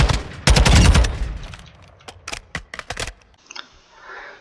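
A Tac-V (SCAR) battle rifle firing in the video game MW2: a loud burst of rapid shots, then a string of separate sharp cracks with short gaps, fading into quieter mechanical clicks.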